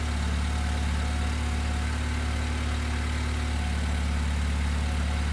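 Honda Civic engine idling with the AC off, a loud, steady, unbroken rumble with constant low vibration throughout, no voices.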